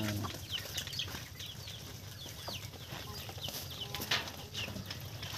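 Pet ducks are fed at close range, giving scattered soft calls and chatter over a busy bed of pecking and shuffling noise, with no loud peaks.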